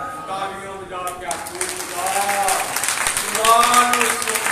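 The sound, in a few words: audience applause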